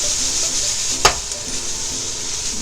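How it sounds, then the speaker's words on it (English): Bacon and shrimp sizzling in a pan for Toowoomba pasta, a loud, steady hiss with one sharp utensil knock near the middle. "As that's cooking away, I'm gonna add the bacon and the shrimp"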